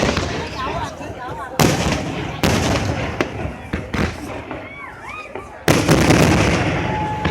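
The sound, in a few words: fireworks exploding on the 4th of July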